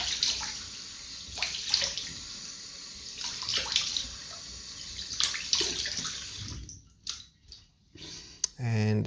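Tap water runs steadily while a face is rinsed off after a straight razor shave, a broadband splashing wash for about six seconds that then breaks into a few short separate splashes and drips.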